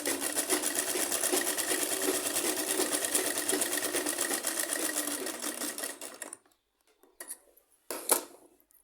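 Sewing machine stitching a salwar, a steady fast mechanical whir running for about six seconds before stopping, followed by a few short bursts of handling noise.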